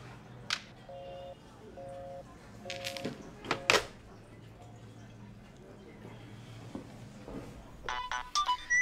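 A telephone rings at night, its electronic ringtone sounding in short repeated bursts over a quiet room, with scattered thumps and clicks and a brief warbling electronic tone near the end.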